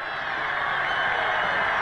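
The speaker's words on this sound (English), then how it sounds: "Now you hear the crowd." A stadium crowd roars during a fourth-quarter college football national championship game between Georgia Southern and SFA, a steady, loud, broad wash of cheering and hollering that holds for the full moment.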